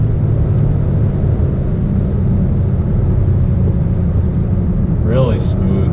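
Cabin sound of a 2020 Kia Telluride AWD driving off-road, a steady loud low engine and road rumble throughout, with a brief voice near the end.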